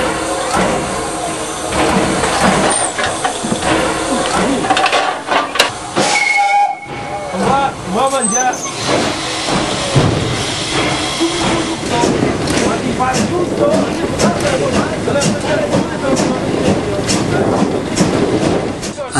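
A Gr 625 steam locomotive hisses and runs, with loud continuous steam and mechanical clatter, a short whistle-like tone partway through, and people talking over the noise.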